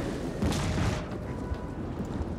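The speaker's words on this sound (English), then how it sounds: "just being pummeled with artillery." Artillery bombardment in the battle game Rome Total War 2: dense, rumbling booms and blasts pile up into a continuous heavy barrage, loudest near the start.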